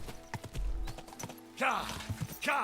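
A horse's hooves clop in Kingdom Come: Deliverance 2, a few separate footfalls and then a louder cluster close by, with brief bursts of other game sound.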